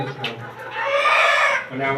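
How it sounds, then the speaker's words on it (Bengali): A chicken clucks and calls close by at a rooftop poultry farm, a drawn-out bird cry rising in the middle of the clip. "এখানে রয়েছে সোনালী মুরগি এবং আড়াইয়ার মুরগি"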